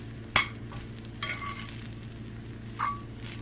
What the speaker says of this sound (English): Just make sure you cook it and stir it constantly